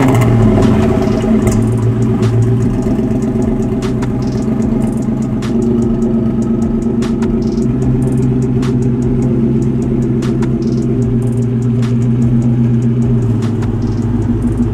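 A wrecked-and-rebuilt Ford GT runs loud and close, its engine droning steadily throughout with a thick low rumble and small throttle swells as it moves off under its own power.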